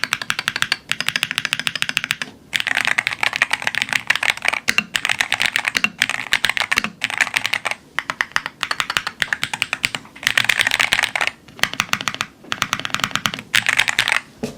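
Someone types on a Qwertykeys Neo65 Sonic He+ gaming keyboard, producing rapid, close, clacky keystrokes in bursts with brief pauses between runs.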